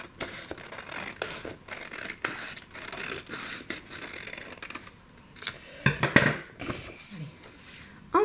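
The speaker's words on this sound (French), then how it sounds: "pour pouvoir découper la règle en papier." Scissors cutting along a line on a paper ruler sheet, a quiet series of crisp snips and scratchy paper rustles in an uneven rhythm, with a brief louder crinkle of handled paper.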